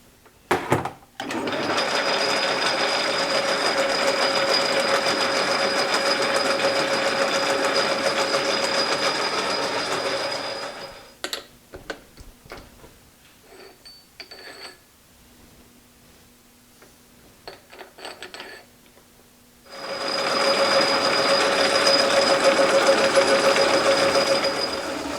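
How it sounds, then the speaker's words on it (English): Threads being cut, 5/8-11, into a drive hub for a David Bradley play tractor, a steady machine drone running for about ten seconds, stopping for scattered clicks and knocks, then starting again for the last few seconds. "now we've got to cut some 5/8 11 threads on this"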